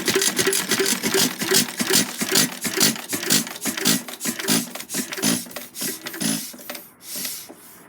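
A McCormick-Deering M 1-1/2 HP stationary engine running after a cold start, close and loud, with a steady train of rhythmic, rasping exhaust beats that slow and fade toward the end.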